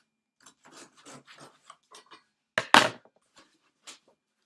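Scissors make several short snips and cuts into the sides of a cardboard shipping box packed with styrofoam, a few small clicks followed by a louder rasping burst near the end.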